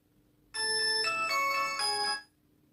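A mobile phone ringtone plays in a home, a bright electronic melody of stepped tones lasting about a second and a half, loud and close, with no voices over it.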